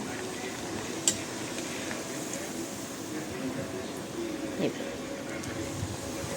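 Mutton vada frying in hot oil, making a low, even hiss of bubbling with a couple of faint pops standing out, continuous and fairly quiet from start to finish.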